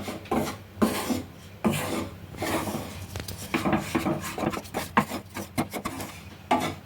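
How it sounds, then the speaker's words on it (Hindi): Wheat flour being stirred and roasted in a pan, an irregular series of scraping and rubbing strokes of a spoon against the pan, close and fairly loud, with no talking. "तो इसे लगातार चलाते हुए हम भून लेते हैं जब तक इसकी कलर चेंज ना होने लग जाए तब तक।"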